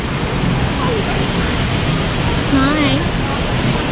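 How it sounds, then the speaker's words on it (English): A waterfall at a zoo gives a constant, loud broadband roar of falling water, with a child's and adult's voices heard briefly over it. "Look at the waterfall."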